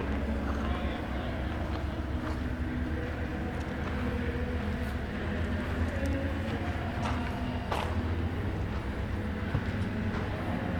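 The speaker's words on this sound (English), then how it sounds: "Freight trains coming through." A continuous low rumble and rattle of a freight train rolling past a roundhouse in Martinsburg, steady throughout with occasional faint clanks and squeaks.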